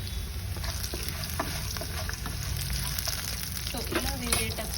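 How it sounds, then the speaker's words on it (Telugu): Ingredients for tomato pachadi, cashews among them, sizzle in a pan, a steady quiet frying hiss with occasional stirring scrapes and faint background voice. "ఇప్పుడు ఇవి వేగనిద్దామండి"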